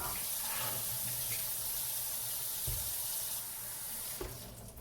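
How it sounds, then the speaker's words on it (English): Tap water runs steadily into a vase, a constant splashing gush that stops near the end. "So let me go ahead and wash the vase and"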